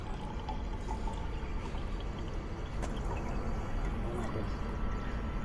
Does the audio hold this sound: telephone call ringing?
no